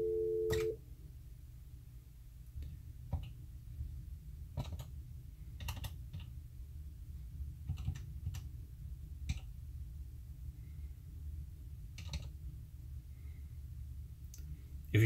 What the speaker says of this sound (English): we can use the number pad to start typing in our SIP URI